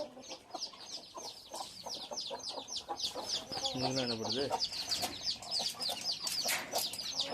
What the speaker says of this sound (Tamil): இன்னிக்கோழி அங்கே மேலே ஏறி உட்காந்துருக்கு. இந்த 6 குஞ்சு இருக்குது.